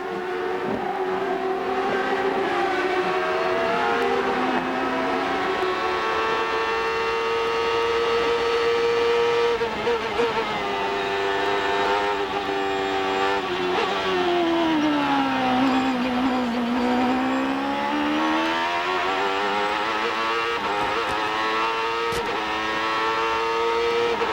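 An IndyCar race car engine screams in an onboard view at the 1996 Portland 200, a loud continuous high-revving wail whose pitch climbs, drops with sequential gearbox shifts and sweeps back up, with no talk.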